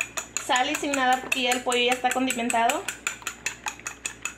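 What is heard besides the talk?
mixing egg in a bowl with a utensil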